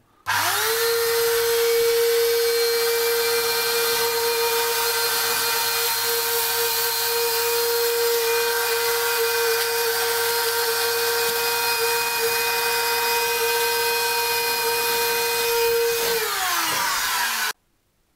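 A homemade vacuum built from a broken vacuum cleaner sucks up trampled sawdust at a sawmill, with a loud, steady motor whine and airflow roar running unbroken for about seventeen seconds before it cuts off abruptly.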